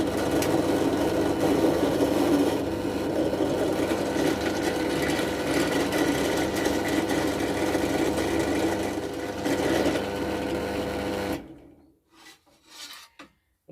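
A router runs steadily in a home workshop with a router table, a loud continuous whir with a rasping edge that cuts off near the end, leaving brief faint knocks.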